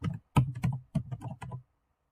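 Keys clatter on a computer keyboard in a quick burst of about six distinct strokes, close and clear, then stop, with no talking.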